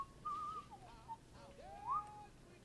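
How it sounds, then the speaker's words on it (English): A melodic whistled tune from Codsworth, the robot butler in the video game Fallout 4, wavering up and down in clear sliding phrases over a quiet background hum. "Is that you whistling? Who's whistling?"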